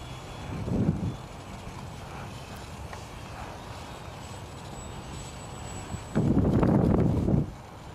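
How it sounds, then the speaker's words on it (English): Wind gusts buffet the microphone outdoors as a steady low rumble, with two louder blasts near the start and end of the roar, no talking. "And the wind, she is blowing."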